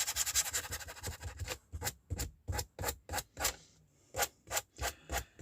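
Sandpaper rubs by hand in quick rhythmic back-and-forth strokes, about a dozen close, soft scratchy passes with short pauses between them and no voices.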